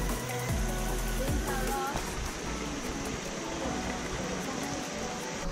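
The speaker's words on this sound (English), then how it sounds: "I can hear the river." Rushing water from a river in a jungle valley in Bali, a steady broadband wash heard from a distance, with faint voices and some handling noise near the start.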